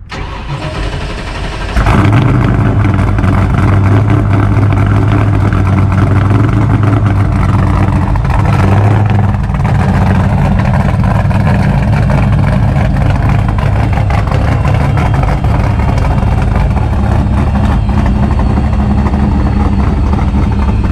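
An 800 hp Vortech YSi supercharged Foxbody Mustang fires up with a sudden loud start, then holds a deep, steady, rumbling engine drone close by for the rest of the ride, with pitch shifting slightly as it revs.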